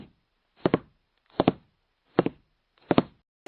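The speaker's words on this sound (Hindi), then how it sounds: "फिर से दरवाजा खटकने लगा।" Four evenly spaced double knocks rap on a house door, each a quick pair of dull thuds, close and fairly loud with silence between them.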